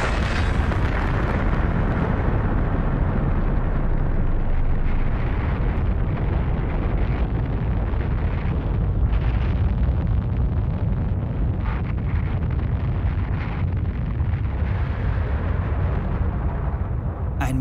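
A uranium atomic bomb detonating in the morning about 600 metres overhead, heard as a sustained, loud, rumbling roar with dense low-end boom and crackling bursts that fill the whole stretch without letup.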